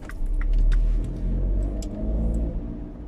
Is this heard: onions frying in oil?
no